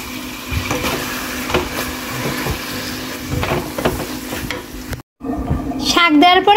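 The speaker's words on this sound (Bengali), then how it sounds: "শাক দেওয়ার পরে নেড়ে দিচ্ছি" Boiled red amaranth greens stirred and fried in a pan, a steady close sizzle broken by scraping stirs, briefly cutting out near the end before returning with a tonal squeal.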